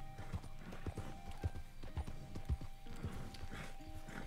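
Horse hooves clip-clop at a steady walking rhythm in Red Dead Redemption 2, moderately close and fairly quiet, with a faint whinny and a voice softly in the background.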